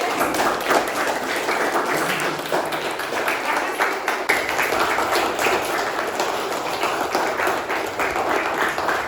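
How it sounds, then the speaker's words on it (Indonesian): Classroom applause for two student role-play performers after a lesson on social media etiquette, a steady wash of clapping from the class lasting throughout, with faint voices mixed in. "tepuk tangan untuk Mas Yusuf dan Mas Samuel"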